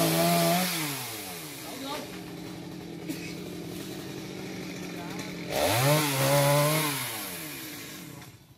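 A chainsaw cutting trees on the roof of a restaurant, its engine revving up and down in loud, rising and falling surges with a steady idle between cuts, heard close with people talking over it.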